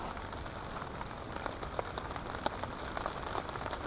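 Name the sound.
rain falling on a tent while camping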